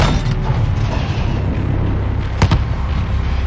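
A big explosion in the video game Call of Duty Modern Warfare at night, with a steady loud rumble and a sharp boom near the end, no talk over it.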